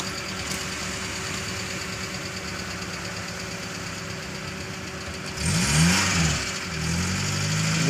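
A car engine running steadily while driving on a slope, a continuous mid-pitched hum and rumble that swells louder and rougher near the end as the engine labours.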